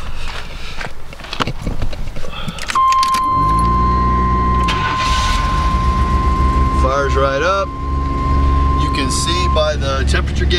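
A 1995 AWD Chevy Astro van starts up close by: keys jingle, a short crank catches into a loud, steady engine idle that settles and runs on, with brief voices partway through.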